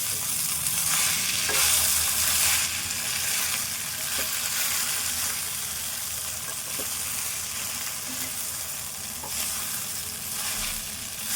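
Idli upma is stirred in a hot pan, a continuous bright sizzle with a few soft spoon scrapes and knocks spaced out over the steady frying, heard close and with no talking.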